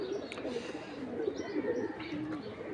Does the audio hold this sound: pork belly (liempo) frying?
no